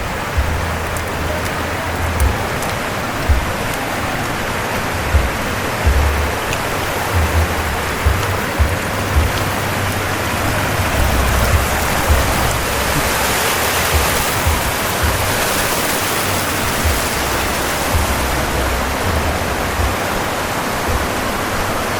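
Spring water running into a resort pool at Villa Elena, a loud, steady broadband rush like a small waterfall, continuous and close with faint irregular splashes throughout.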